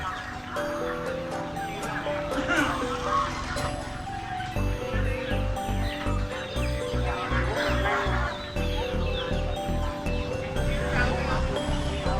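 Ducks quack among chickens and other fowl at the Jambon poultry market in Indonesia, with steady background music and crowd noise and a person talking nearby.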